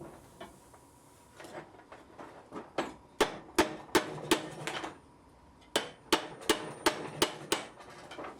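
Hot iron fireplace tong pieces are hammered together at a blacksmith's forge, with sharp metallic blows arriving in quick bursts of about a dozen strikes, close and ringing, separated by a brief pause.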